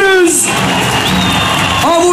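A large crowd at a Turkish political rally cheers, whistles and applauds loudly and continuously, with a shouting voice over the din.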